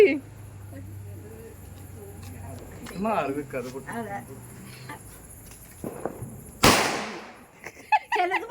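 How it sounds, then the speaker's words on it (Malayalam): People chat and exclaim, then a single sharp firecracker bang bursts loudly nearby, followed by more voices and a few smaller pops. "അയ്യോ ഞാൻ പടക്കം പൊട്ടിക്കാൻ എന്നെ കിട്ടില്ല"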